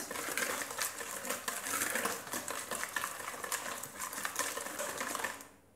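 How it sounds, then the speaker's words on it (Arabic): Lemon zest, sugar, a pinch of salt and semolina are stirred together in a bowl for ghriba cookies, giving a close, busy run of gritty scraping and clinking from the utensil that stops abruptly at the end. "غادي نخلط المكونات."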